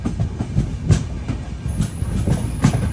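A train arriving at Karwar railway station in Karnataka rumbles along with rhythmic clickety-clack of wheels over rail joints, steady and close, with a faint high squeal.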